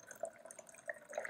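Hot or warm water poured for a Kromanti rum warmer, a short, quiet trickle of small liquid splashes and drips, with no talking.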